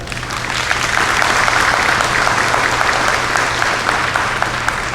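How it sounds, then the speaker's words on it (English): Audience applause at a high school senior awards ceremony, a dense, steady roar of clapping filling the hall for the full stretch with no talk over it. "You guys clap it out for that."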